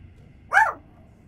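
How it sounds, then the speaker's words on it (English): A single sharp dog bark rings out once, loud and close, in a horror video game, with a low rumbling game ambience beneath it and no talking. "My dog just saw another dog and he barked at him."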